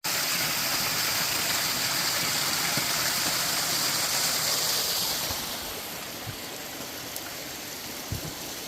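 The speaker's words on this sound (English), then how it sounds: "Here we have miniature waterfall number 7." Steady rushing of a small waterfall in a mossy hemlock forest, loud and constant, easing slightly partway through, with no voices.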